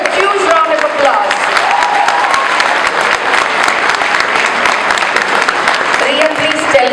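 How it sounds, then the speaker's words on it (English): An audience at a community service gathering applauds, with steady, sustained clapping from many hands filling the room throughout. "Ladies and gentlemen, let's give her a huge round of applause."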